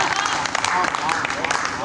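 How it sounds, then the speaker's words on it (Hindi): Audience at a Hindi kavi sammelan poetry recital clapping after a verse, moderate applause mixed with a voice speaking over it. "तालियां पंडित जी के नाम पर कुछ कम है।"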